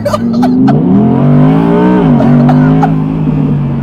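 An Audi R8 V10 engine revs hard close by, the pitch rising and falling in a sustained loud howl, with short sharp pops over it and a little talk mixed in.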